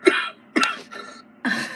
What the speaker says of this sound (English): Don't cough, Mom.